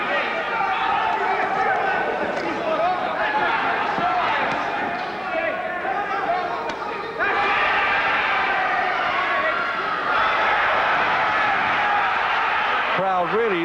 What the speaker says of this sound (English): Crowd really reacting to every punch now